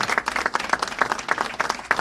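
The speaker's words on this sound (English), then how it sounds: "she definitely deserves a round of applause for the work she's done for all of us" A room of people clapping for attorney Shanta Wilkerson at a celebration of the signing of Illinois bill HB3394 on corporate board diversity. The individual claps come in quick, sharp bursts, close and lively, with no voices over them.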